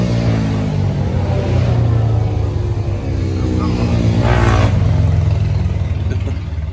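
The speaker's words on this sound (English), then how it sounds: "And some dirt bikes" Dirt bikes pass by on a trail with a steady, loud engine drone and rising revs that swell near the middle, heard alongside a Jeep Cherokee frame job.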